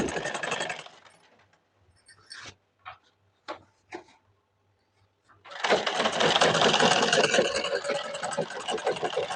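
Sewing machine running a straight seam on a pajama, a brief burst at the start, a few soft clicks and taps during a near-silent pause, then a long steady loud whir to the end.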